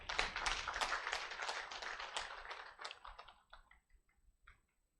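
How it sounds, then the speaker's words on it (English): A crowd claps at a student orientation day at the Ahaki Institute, brisk applause that thins out over a few seconds into a few last isolated claps, then quiet. "Let's clap for them."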